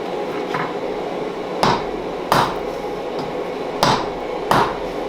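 Damascus steel is hammer-forged for a beer tap handle. Four sharp, ringing blows land at uneven intervals, with one faint tap before them, over a low steady background hum.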